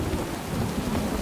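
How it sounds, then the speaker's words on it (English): Heavy rain pours down in a dense, loud, unbroken roar with a deep rumble of thunder underneath. "heavy rain started pouring, and it didn't stop that day"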